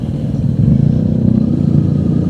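A Kawasaki KLE 500 motorcycle engine runs steadily while riding on a touring trip, a loud, low, throbbing drone with wind rumble and faint clatter, continuous throughout.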